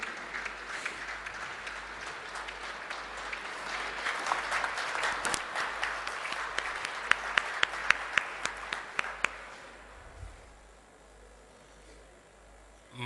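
Loud, sustained crowd applause welcomes Chief Minister Narendra Modi at the SCA stadium inauguration, with sharp individual claps standing out before the clapping dies away and leaves a quiet hall.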